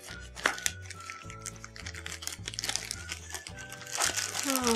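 Crinkly plastic packaging rustles and crackles steadily as anime stickers are pulled out, close and busy, with someone talking throughout and music playing underneath.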